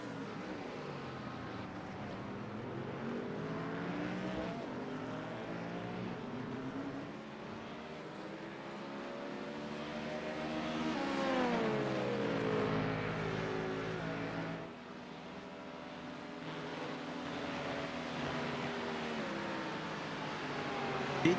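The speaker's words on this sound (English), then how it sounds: "Did you know the LMP2 was a V8 engine? Doesn't sound like it." An LMP2 prototype race car with a V8 engine races at Spa during a 6-hour endurance event, its engine droning steadily and rising and falling in pitch through repeated gear changes and accelerations, loud and continuous throughout.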